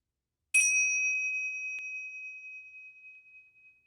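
A single bell struck to close a guided visualization: one clear, bright ding followed by a long, pure ringing tone that slowly fades in an otherwise silent room.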